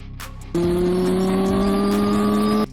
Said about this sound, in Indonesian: Stone langsung tancap gas dengan sepeda motornya